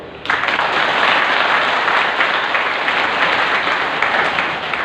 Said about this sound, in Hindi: रिफ्रेश बटन है, इसलिए ताली बजाते हैं।